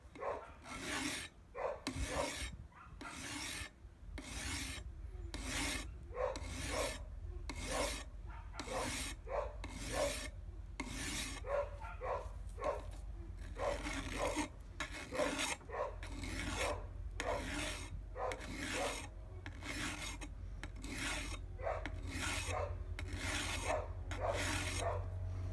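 A standard hoe blade is being filed to sharpen it, with repeated rhythmic metal rasping strokes, each a short scraping burst, heard close up and steady throughout with no talking.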